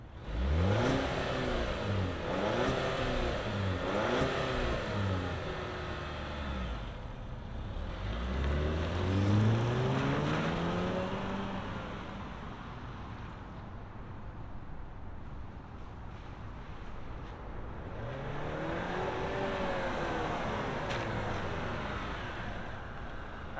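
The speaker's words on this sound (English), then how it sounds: "let's fire up this engine and see this move" A 2024 Volvo V60 Cross Country B5 all-wheel-drive wagon with a turbocharged engine starts and runs, with several rising and falling revs, a moderately loud engine heard up close and no talk.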